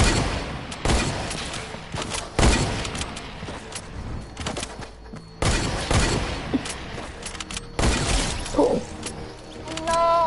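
Loud, close gunfire in a first-person shooter video game comes in repeated rapid bursts separated by brief lulls, with rattling shots and debris-like crackle throughout.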